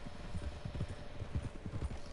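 A large white horse in Red Dead Redemption II walks with steady, evenly paced clip-clop hoofbeats, soft and close, with no one speaking.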